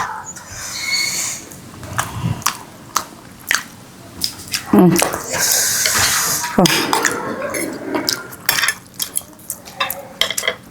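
Sayur lodeh with bendot sautéing in a pan, with scattered clinks and scrapes of a utensil against the pan, soft sizzling and stirring, and intermittent sharp taps, close and uneven in rhythm.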